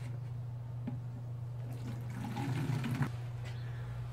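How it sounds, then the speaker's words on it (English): Water pours into a bottle with a steady gurgling splash that builds for a few seconds and then stops, heard over a constant low hum. "I am going to dump that amount of water"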